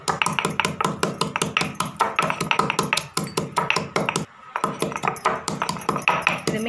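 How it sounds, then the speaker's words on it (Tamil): Rapid, steady pounding of a stone crushing cumin and pepper, dense rhythmic thuds close by with a brief pause partway through. "இது ஃபஸ்ட்டு நம்ம ஜீரகமாக மிளகு நுணுக்கிக்கலாம்."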